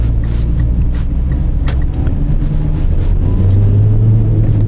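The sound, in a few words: Mitsubishi ASX car accelerating on the road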